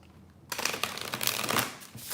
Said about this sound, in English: Let me pull the shuffle.